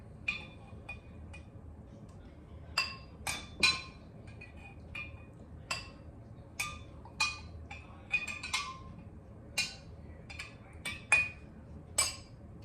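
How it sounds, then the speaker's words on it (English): Tea bags being fished out of a glass container of brewed kombucha tea, with sparse light clinks and taps of glass recurring at irregular intervals against a quiet room. "I'm just going to fish out the tea bags that are in here."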